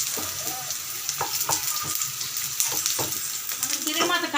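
Taro pieces fry in hot tempering oil with a loud, continuous close sizzle, broken by occasional stirring clicks against the pan.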